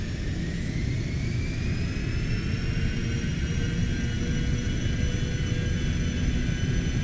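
A Citation X business jet at takeoff power, its turbine engines giving a steady loud roar with high whining tones and a rumbling low end, continuous and close throughout.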